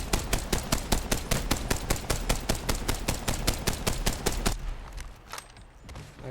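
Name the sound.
Rampage LMG gunfire in Apex Legends video game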